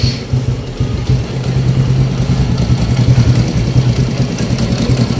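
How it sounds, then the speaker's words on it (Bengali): A TVS Radion motorcycle engine with timing chain noise runs at a steady, close idle, its low mechanical rumble continuous and alone with no talk. "শুনতেই পাচ্ছেন ইঞ্জিনের নয়েজ"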